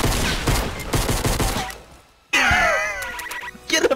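Bursts of rapid automatic gunfire in Fortnite, loud and tightly spaced for a second and a half, then a brief lull before a sharper burst of in-game effects and more scattered shots.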